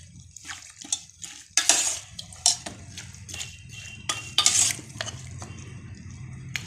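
Pork with onions and potatoes is stirred in a pan, with scraping, clattering strokes and a low sizzle under them, close up and irregular, with no talking.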